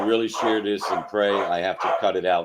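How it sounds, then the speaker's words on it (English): Dogs bark in the background, mostly buried under a person talking continuously over them. "The dogs will not stop barking."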